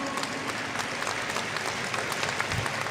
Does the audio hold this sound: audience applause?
yes